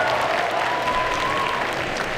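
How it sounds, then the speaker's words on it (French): A cosplay contest audience applauds the jury at a convention, dense sustained clapping filling the hall without pause. "messieurs, dames, on les applaudit encore une fois bien fort"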